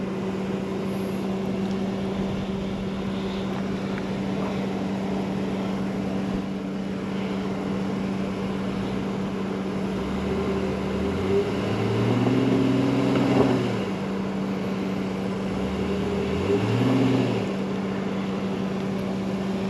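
A vehicle sits with wheels spinning for traction on a dirt trail, its engine drone steady under two rising revving surges that climb in pitch and fall back.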